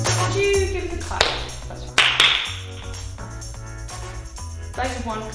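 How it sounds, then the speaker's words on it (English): Theatre audience at a comedy show gives a few sharp, scattered claps over a low, droning background, with voices mixed in. "Could you give us a clap?"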